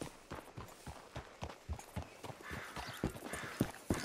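Hooves of a horse in Red Dead Redemption clip-clop in a steady walking rhythm, close and moderately loud, with no talking over them.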